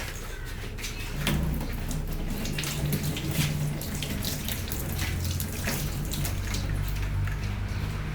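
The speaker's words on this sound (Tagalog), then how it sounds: "Hugasan naman natin." Peeled medicinal herbs washed under a running tap, with a steady close stream of splashing water and a few light knocks, no talking.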